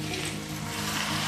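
Jackfruit curry in a hot iron wok hissing in a brief, dense burst of sizzling after a little water is added, close and steady.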